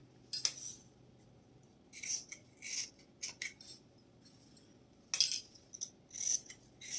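Tailoring scissors snip through halter neck blouse fabric in short crisp bursts, several quick cuts in clusters with pauses between, close and quiet with no talk.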